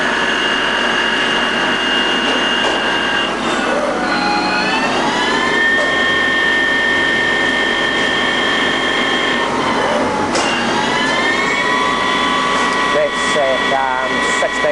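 A Bemato BMT-2160 CNC teach lathe with a Fagor 8055 control runs its spindle at constant surface speed near 1600 RPM. It gives a steady, loud machine whine with layered tonal harmonics that rise and fall in pitch over a continuous hum.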